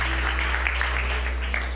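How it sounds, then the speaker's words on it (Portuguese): A church congregation applauds with continuous, even clapping that sounds dense and fairly loud over a steady low hum from the hall. "Tome seu assento aplaudindo a Jesus."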